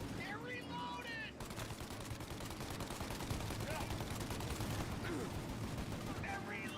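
Rapid bursts of gunfire and machine-gun rattle fill a tank battle in Mafia Definitive Edition, dense and continuous, with shouted voices over the shooting at the start and end.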